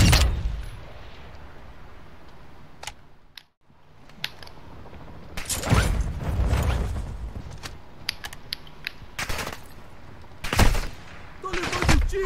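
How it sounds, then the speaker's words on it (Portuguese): Gunfire strikes the player in a Call of Duty match, heard as sharp bursts and cracks over a steady mechanical din, with several loud impacts clustered in the second half. "Tô levando tiro aqui."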